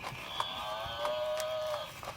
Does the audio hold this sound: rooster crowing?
no